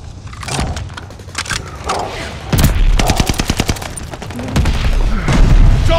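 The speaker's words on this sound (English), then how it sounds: "Friendly mortar fire coming." Friendly mortar barrage in the war shooter Call of Duty: Vanguard, with heavy booms and rapid gunfire bursts building into a loud, dense stretch of explosions.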